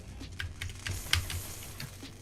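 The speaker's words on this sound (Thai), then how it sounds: "ฟังเสียงคีย์บอร์ดได้นะครับ" Computer keyboard keys W, E and S pressed at a moderate pace during a Roblox Ro-Ghoul game, a handful of soft clicks spread across a couple of seconds, quiet and close with no talking.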